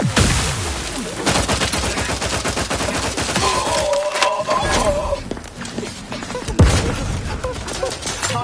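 Dense, sustained gunfire from The Outer Worlds 2 video game, rapid overlapping shots forming a continuous fusillade, loud and close, with a brief tonal chime midway and a sharp heavier blast near the end.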